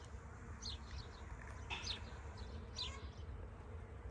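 Bees buzz among cherry plum blossoms outdoors, a faint, steady hum with brief nearer passes, under a low background rumble and a few chirps.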